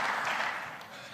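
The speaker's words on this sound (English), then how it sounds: "Let's give Alexandre a big round of applause" A brief wash of audience applause in a conference hall after a speaker is introduced, steady clapping that fades slightly over about a second.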